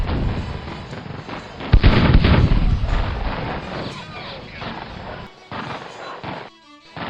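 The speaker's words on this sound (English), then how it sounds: "As they crest the slight rise, Perrott's battery, Battery C, 2nd U.S. Artillery, opens fire." Artillery fire from a Union battery, Battery C, 2nd U.S. Artillery, in a Civil War strategy game depicting the Antietam battle near Burnside's Bridge: a heavy booming volley erupts, then rumbling, crackling reports continue over dense battle noise.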